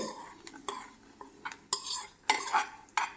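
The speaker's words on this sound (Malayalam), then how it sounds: "എല്ലാം കൂടി ഒന്ന് ഇളക്കി കൊടുക്കാം" A spoon stirs unniyappam batter mixed with coconut pieces fried in ghee, making uneven bursts of wet scraping and light clinks against the bowl, close and alone.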